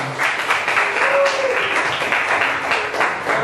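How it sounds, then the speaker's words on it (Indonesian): Vocational school students in an electronics class applaud a classmate, a steady burst of many hands clapping fairly loudly for several seconds, with faint voices underneath. "Kita beri aplaus dulu untuk Zilzia."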